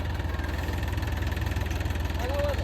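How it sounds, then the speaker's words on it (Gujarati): Large tractor engine running steadily while cutting silage, a deep continuous throbbing drone with a faint knock, close and even throughout. "ત્યાંથી આપણું મોટું ટ્રેક્ટર કટિંગ કરે"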